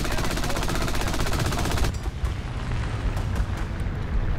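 Rapid bursts of .30 cal machine gun fire from a tank in War Thunder ground battle, a dense continuous rattle that stops, then scattered shots and rumbling follow, loud and close.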